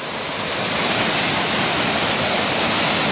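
A loud, steady roar of falling water from the Mettuguda waterfall at Seethampeta, running high, fills the whole clip, constant and close with no other sounds.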